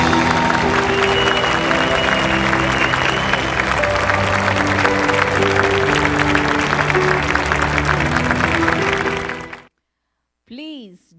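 Sustained loud applause from a large audience at a book launch, dense clapping and crowd noise running steadily for several seconds before cutting off abruptly, followed by a short voice.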